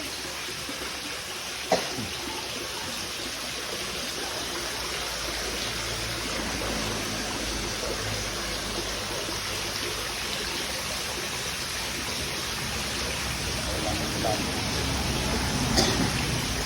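Steady flowing water runs continuously into a storage tank, a broad hiss like a stream pouring in, with faint background sounds and a couple of brief knocks.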